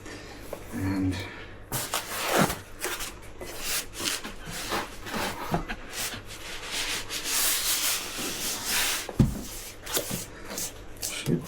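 Repeated scraping and rubbing strokes as a handmade saddle is trimmed round, irregular rasping bursts at moderate volume with some faint background noise.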